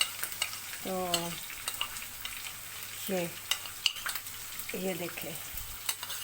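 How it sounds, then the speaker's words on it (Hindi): Ginger garlic paste fries in a pan with a steady sizzle, while a spoon scrapes and clinks against the metal in short repeated strokes. A voice speaks briefly. "ये हम अदरक लहसुन का पेस्ट डाल रहे हैं"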